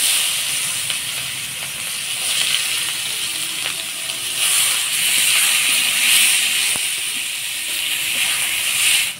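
Chopped onions hitting hot oil already seasoned with dried red chillies, bay leaves and whole garam masala for a village-style egg curry, giving a steady, loud sizzling hiss throughout with small crackles.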